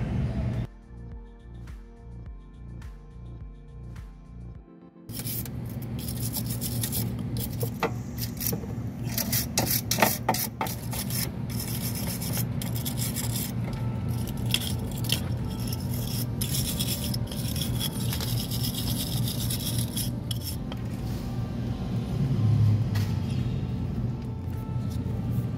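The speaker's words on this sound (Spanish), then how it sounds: "yo lijé todo esta zona con el cepillito de alambre para quitar los residuos." Continuous dense scratching and rasping of a small wire brush scrubbing battery acid corrosion off metal, close and steady with a low hum underneath, after a brief quieter start.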